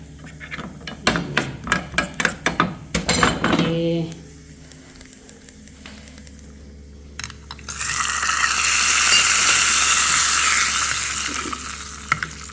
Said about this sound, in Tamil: பாயாசத்துக்கு முந்திரி பருப்பு தாளிச்சிட்ருக்கேன்